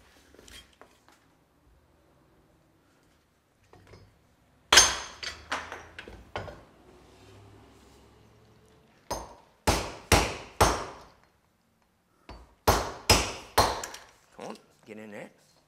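A wooden peg is hammered through a hand-forged peg cutter, a series of loud, close, ringing hammer blows in two bursts with short pauses, accompanied by a little talking.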